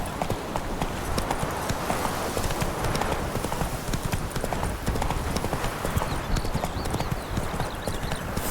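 Horse Roach galloping in The Witcher 3 game, a fast steady clip-clop of hooves throughout, close and loud, with a brief neigh-like sound and a voice faintly urging the horse on.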